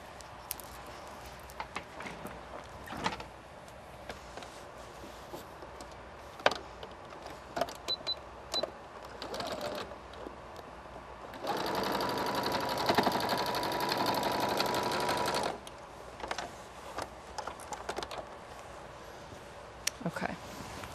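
A sewing machine runs a seam 2 inches up a canvas bag, one steady four-second buzzing stretch in the middle, surrounded by quieter handling clicks and scattered knocks.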